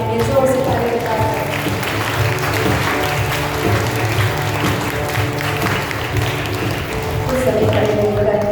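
A church congregation claps loudly together in a continuous dense wash of applause lasting throughout, with a faint voice and musical tones underneath.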